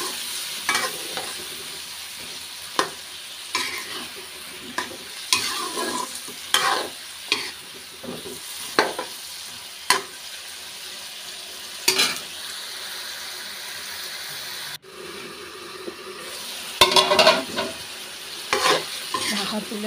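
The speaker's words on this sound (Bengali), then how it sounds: "আর একটু নেড়ে চেড়ে কষিয়ে নিচ্ছি।" Pointed gourd stirred and fried in a wet masala for a hilsa curry, with steady sizzling broken by repeated scraping strokes of a spoon against the pan, close and fairly loud throughout.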